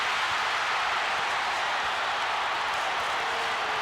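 Sustained roar of a boxing arena crowd cheering for their fighter during a late-round bout between Oscar De La Hoya and Ike Quartey, a broad, steady wash of noise with no distinct voices standing out.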